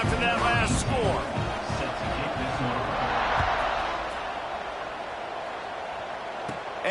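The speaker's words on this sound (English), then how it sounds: "this crowd is buzzing after that last score" A college football stadium crowd at Maryland hosting Louisiana Tech buzzes after a score. The steady, fairly loud crowd murmur gradually eases, and an announcer talks over it.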